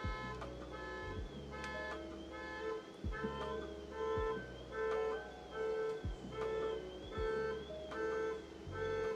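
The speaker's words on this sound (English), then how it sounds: "Car alarms are so loud, aren't they?" A car alarm going off in the middle of the night, a repeating electronic pattern of tones and honks cycling rhythmically, heard at moderate distance with no voices over it.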